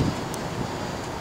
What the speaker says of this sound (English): I know it's a bit windy all of a sudden, like really windy